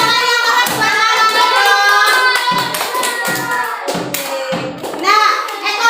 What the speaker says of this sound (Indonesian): Tepuk tangan dulu buat tepuk tangan